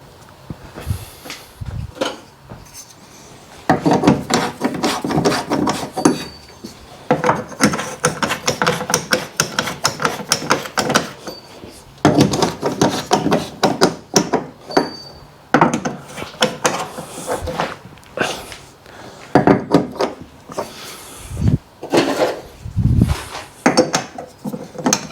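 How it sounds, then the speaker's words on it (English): Metal tools and nuts click, scrape and clatter up close while two nuts are fastened onto the wiper motor of a Fiat Scudo van, an irregular run of sharp knocks and ratcheting taps with short pauses. "now I'm just going to get these two nuts back on"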